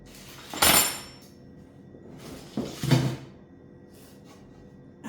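Cooking pots and their lids being handled, two loud clattering metallic knocks a couple of seconds apart, followed by fainter clinks in a quiet kitchen.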